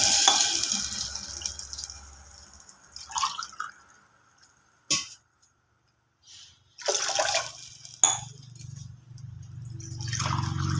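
Water added to rice in a pot for Mangalore GSB-style white rice nuchi, two and a half measures per measure of rice, heard as quiet, intermittent bursts of splashing and trickling separated by near-silent pauses.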